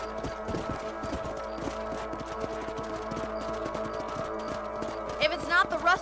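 Horse hooves clip-clopping in a steady trotting rhythm while riding in Red Dead Redemption, close and continuous under ambient game sound, with a voice briefly speaking near the end.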